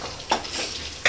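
Apollo fish and pandu kappa fish frying in hot oil, a steady close sizzle with two brief sharper bursts as pieces are stirred or moved in the pan.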